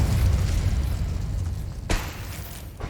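Incendio fire spell cast in Hogwarts Legacy, a dense roaring burst of flame with a sharp crackling flare near the end, loud and close with no talk.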